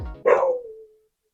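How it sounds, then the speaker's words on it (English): A single sharp dog bark from the video game Ghost of Tsushima rings out close and loud, then fades quickly into silence. "That dog scared the fuck out of me."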